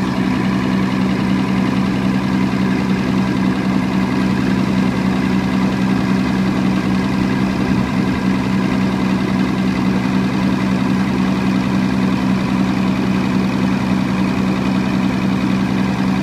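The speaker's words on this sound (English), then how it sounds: "this unit I'm running on this generator here" A diesel generator fitted with a dual-fuel natural gas conversion kit runs steadily and loudly up close, a constant low droning engine hum with an even mechanical whine and no change in pace.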